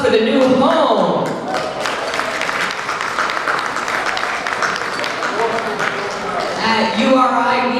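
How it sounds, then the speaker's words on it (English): Audience applause at an annual honoring and cultural celebration for the Tomaquag Museum, a crowd clapping steadily for several seconds, bracketed by a voice speaking over a sound system. "Can we get a round of applause for the new home?"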